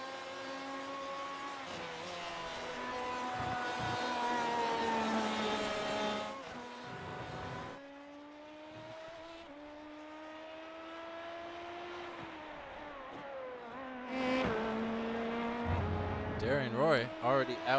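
Racing engines of LMP2 and GTE cars howl on the Silverstone circuit in iRacing, a loud sustained tonal whine with shifting pitch that dips and rises through gear changes, with a commentator talking over it.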